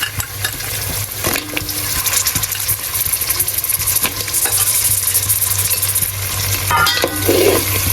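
Crabs with chilli frying in hot oil for a crab curry, a loud continuous sizzle and crackle up close, with occasional clatters of stirring and a low steady hum underneath.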